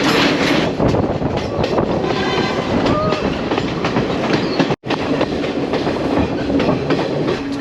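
A train rumbles steadily along the rails with a rattling clatter, loud and close, with a brief dropout near the middle.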